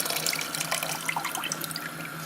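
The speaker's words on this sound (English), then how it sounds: "So that it doesn't splash, I'm just going to tip the vinegar mix in first" Vinegar mixture being poured into a container, a steady close splashing trickle of liquid that runs throughout, fairly loud with no talking.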